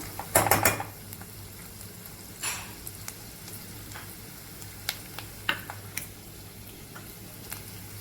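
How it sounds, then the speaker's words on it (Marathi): Puffed rice (murmure) being sautéed in a pan on medium flame, with a soft, steady sizzle, a burst of rustling stirring near the start and scattered clinks of a spoon against the pan, no talking. "मीडियम गॅसवर हे छान परतून घेऊ आपण।"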